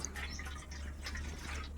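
Water poured into village-style mutton browning in oil makes a steady, close, hissing splash throughout, with no voices.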